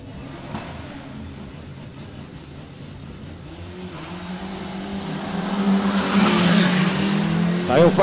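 Drag racing cars accelerate on a 201 m strip at an Amazonas championship time-trial session, engine noise rising in the second half with revving and a growing roar, while a voice talks over it.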